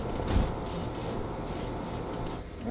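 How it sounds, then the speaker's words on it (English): Penetrating oil hissing from an aerosol can onto a stuck Ferrari 488 exhaust pipe, several close, loud bursts of spray in quick succession with brief gaps between them. "Before I get started, I'm going to spray some penetrating oil on it."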